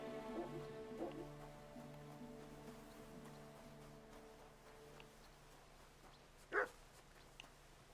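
A dog in Kingdom Come Deliverance 2 gives a few barks early on, then one sharper bark near the end, sitting over a steady in-game ambient bed with sustained tonal music.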